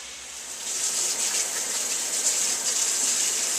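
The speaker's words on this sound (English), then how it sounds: "Always, always, always wash them off first and scrape off all the outer layers." Vegetables for a beef stew are rinsed under a running tap, a steady close gush of water that swells after the first half second and keeps flowing, with no talk.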